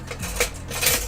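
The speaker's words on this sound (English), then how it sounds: "Okay, now let's add some ice." Ice cubes go into a drink, giving a few quick clinks and knocks against the glass, close and moderately loud.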